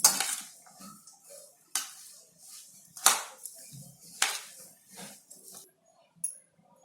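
Vegetables and soybean batter for soybean appe are stirred together in a bowl, giving a handful of faint, sharp clinks spaced about a second apart over a quiet background.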